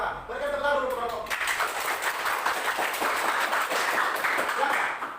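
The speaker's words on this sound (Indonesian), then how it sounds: "Berikan tepuk tangan dulu untuk kelompok." Applause for a student group in a classroom, a dense wash of many hands clapping that swells in after a brief voice at the start and holds steady and loud to the end.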